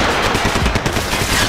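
Loud, close gunfire from the video game Max Payne 3 comes as a dense, rapid burst of automatic shots.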